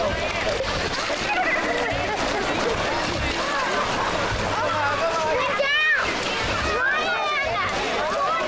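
Water running and sloshing down a model river, a continuous splashing wash close by with a crowd of people talking underneath throughout.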